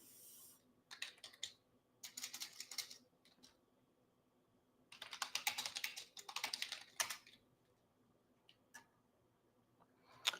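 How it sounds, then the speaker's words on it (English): Computer keyboard typing in several separate bursts of rapid, close key clicks with quiet pauses between them, fairly faint and with no talk. "I typed in signs of the fall"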